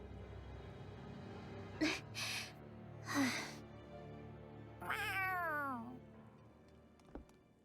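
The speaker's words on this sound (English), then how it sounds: "A cat?" In the video game Tales of Arise, a cat gives a few short meows and then a longer, drawn-out meow over a quiet, hissy background, followed by a faint click.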